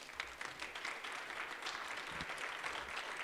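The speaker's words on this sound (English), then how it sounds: "That's much better applause" Steady crowd applause fills the room, a dense wash of clapping hands that holds at an even level throughout.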